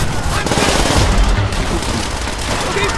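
Dense, loud automatic gunfire in the World War II shooter game Call of Duty: World at War, with rapid bursts and booms close up and a continuous barrage throughout.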